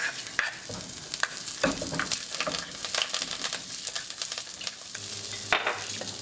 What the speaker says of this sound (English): And now I'm putting in the onions